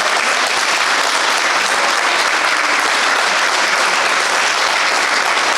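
A large crowd at an outdoor political party rally in a small town claps loudly and continuously, a dense, even roar of applause that holds without pause from start to finish.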